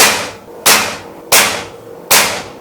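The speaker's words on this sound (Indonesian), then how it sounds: "Tembakan kedua." Three sharp PCP bullpup air rifle shots crack out at a steady pace, each loud snap decaying quickly before the next.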